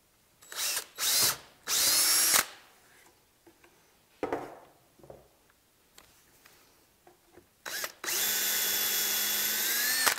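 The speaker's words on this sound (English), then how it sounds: "I've tightened up those screws on the bottom just to give me a little bit of squeeze out in that HDPE" A power drill drives screws into the HDPE bottom of a panel sled in short bursts of whirring, with quiet handling knocks between them, then a longer continuous run at the end, close up and without speech.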